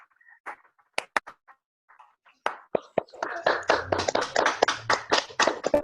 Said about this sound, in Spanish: Muchos aplausos.